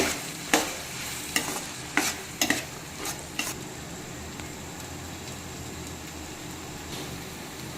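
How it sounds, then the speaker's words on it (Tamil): Chili powder is stirred into a simmering mochai dried fish kulambu, several quick spoon scrapes against the pot over a soft continuous sizzle, then the bubbling carries on alone. "ஆட் பண்ணி இதை நல்லா கிளறி விட்டுக்கலாம்"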